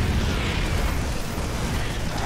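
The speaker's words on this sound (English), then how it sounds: "Wasted a grenade, but that's quite alright." In the StarCraft 2 video game, a grenade explodes as a dense, rumbling game blast that fills the short stretch at a steady loud level, with no voices over it.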